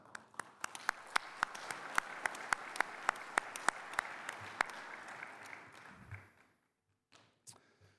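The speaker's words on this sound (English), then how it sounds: "So I just want to give a round of applause to yourselves." Applause from a congress audience of chefs at an expo, at first a sparse run of sharp individual claps in a regular rhythm, fading out, then a couple of faint stray claps, heard from a distance in a large hall.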